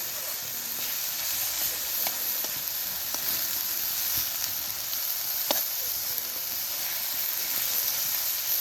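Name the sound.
garlic frying in oil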